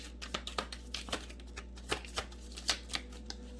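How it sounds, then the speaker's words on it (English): Oracle cards being shuffled by hand, a rapid run of soft riffling slaps and flicks at an irregular rhythm, close and quiet, with no talking. "Okay, one more shuffle"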